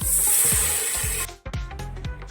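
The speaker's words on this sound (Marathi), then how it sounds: "आता त्यात पाणी टाकायचंय" Water poured into sizzling onion, tomato and turmeric masala for goat head mutton curry, a loud rushing splash that cuts off abruptly, then the pan hisses with rhythmic stirring scrapes.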